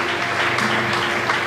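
Church congregation clapping in praise during a worship service, dense steady applause filling the room, with a sustained tone and faint voices underneath.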